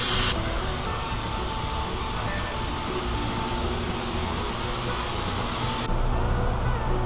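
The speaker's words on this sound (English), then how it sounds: "Brake bleeding time with suction." A suction tool bleeds brake fluid from the brakes of a Ford Mustang GT500 fitted with Baer six-piston calipers, giving a loud, continuous airy hiss that holds steady, close up and without speech.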